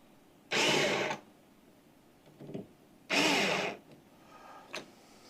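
An electric screwdriver drives a screw into an AMD AM5 server build in two firm whirring bursts, each followed by a brief, quieter buzz.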